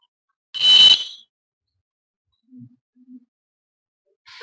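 The Mr. Bean buzz-wire game at a school science exhibition gives off a single short, loud electronic alarm beep when the wire is touched, followed by faint clicks and near silence.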